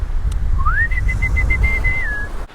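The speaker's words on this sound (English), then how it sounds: "I whistle to them like a dog." A person whistles a single rising note that holds steady with a slight wavering for about two seconds on a Shetland beach, calling to seals, over a low wind rumble.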